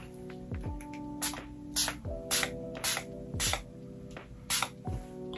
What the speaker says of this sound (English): I go up in with my JT Professional makeup fixing spray. And I just spray it all over my face.